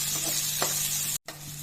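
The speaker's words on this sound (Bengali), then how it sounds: "আলুটাকে হালকা ভেজে নেব পেঁয়াজের সাথে" Potatoes and onions fry in a pan with a loud, steady sizzle, and a few short stirring scrapes break through the hiss.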